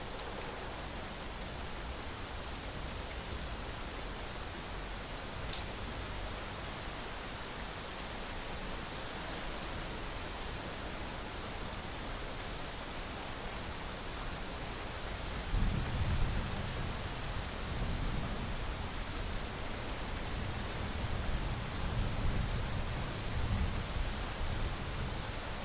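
Rain pours in Space Engineers, a dense unbroken hiss throughout, joined partway through by a deeper rumbling layer like thunder that stays to the end; no voices.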